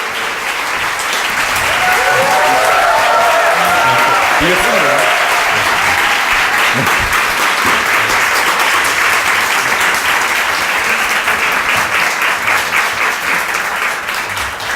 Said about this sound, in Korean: 김상현 대표님 나오실 때 큰 박수로 우리 한번 모시도록 하겠습니다